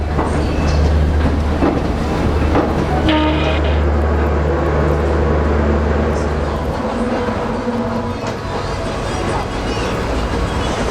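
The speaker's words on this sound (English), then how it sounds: "the train is supposed to leave at 11:25" Loud, close rumble of a train starting to move, a deep engine drone with rattling and clatter from the rail cars, and voices faintly underneath.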